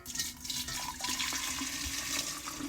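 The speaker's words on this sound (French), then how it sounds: "on vient mettre l'eau bouillante" Boiling water poured over tea bags, mint and lemons for homemade iced tea, a close, steady splashing gush lasting a few seconds.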